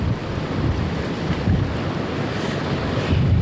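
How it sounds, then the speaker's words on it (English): Strong, gusty wind roars against the microphone at the Ocean City, New Jersey boardwalk during a storm, with crashing surf blended into a dense, continuous rumble and no voices. "The wind's certainly picking up just within the last few minutes here along the boardwalk in Ocean City, New Jersey"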